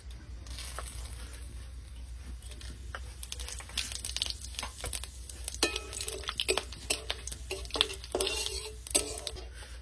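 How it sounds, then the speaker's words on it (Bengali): Whole spices, bay leaf, cinnamon, cardamom, cloves and cumin, fry in hot oil for a duck curry, a faint steady sizzle under intermittent stirring scrapes and light utensil knocks, with no talk. "তা তেলের উপর দিয়েছি তেজপাতা, দারচিনি, এলাচ, লবঙ্গ আর গোটা জিরে"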